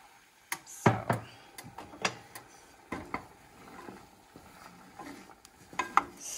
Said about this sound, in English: then I'm gonna stir in my oats